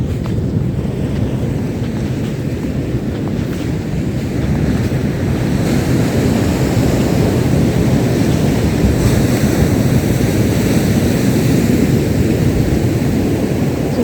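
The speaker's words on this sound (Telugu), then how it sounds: "చాలా భీకర సముద్రం." Rough, heavy sea waves crashing on a deserted deep-water shore, a continuous loud roar of surf with wind buffeting the microphone throughout.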